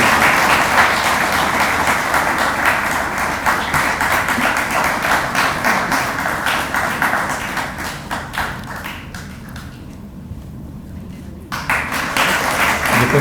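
An award ceremony audience gives loud, sustained applause, a dense crackle of many hands that thins briefly near the end before surging back.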